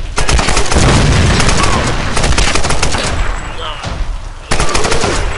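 Rapid bursts of automatic gunfire ring out in the 2013 Tomb Raider video game, loud and dense across the whole stretch, with a brief drop near the end before shooting resumes.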